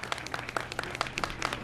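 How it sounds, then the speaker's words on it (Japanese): Audience at an outdoor live show at a hot-spring town plaza claps briefly for a children's musical group, sounding as sparse, fairly distant individual handclaps with a thin background of open-air noise. "盛大な拍手をお願いします。"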